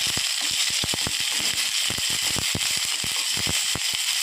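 Chili, garlic and ginger paste fries in hot tempering oil with mustard seeds, crackling and popping in rapid, irregular bursts over a loud, steady sizzle.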